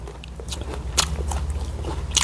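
Crisp bites into apple jujube fruit, a few sharp crunchy snaps spread over a couple of seconds, up close against a low steady hum, followed by quieter chewing.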